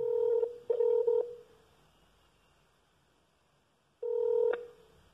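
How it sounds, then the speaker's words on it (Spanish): An unanswered telephone call rings on the line: two short ringing pulses, a long silent gap, then another ring, clear and close with no one picking up. "Teléfono que repica sin ser atendido."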